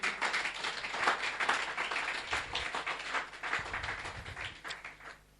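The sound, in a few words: congregation applauding in church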